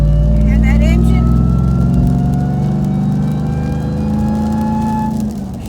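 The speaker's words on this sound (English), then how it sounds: "hear that engine?" A car engine pulls hard and climbs in pitch as it accelerates, loud and close from inside the car, with a steady low rumble that eases off near the end.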